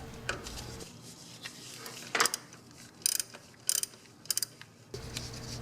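A ratchet works a 12mm nut off the starter of a 2.5L Toyota Camry, giving short bursts of metallic clicking between quieter pauses, close and alone.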